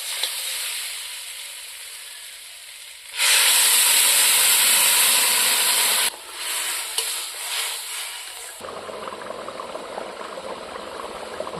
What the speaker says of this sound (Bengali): এখন আমি ঝোলের জন্য জলটা দিয়ে দিব।